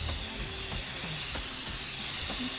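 Steady aerosol spray-paint hiss in the video game inFAMOUS Second Son, loud and continuous with faint clicks and game sounds underneath, no talking.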